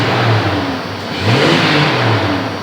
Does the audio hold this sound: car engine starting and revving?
yes